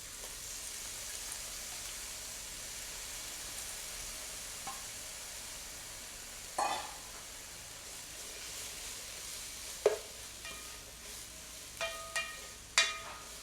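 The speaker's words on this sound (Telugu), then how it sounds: "ఇప్పుడు అదే ఆయిల్లో మనం ఆల్రెడీ ముందుగా పీల్ చేసుకున్న బీరపొట్టును కూడా వేసుకొని బాగా ఫ్రై చేసుకోవాలి" Peeled ridge gourd peel frying in oil in a pan for a pickle: a faint continuous sizzle with a few scattered clinks and stirring scrapes, quiet and close, no talk.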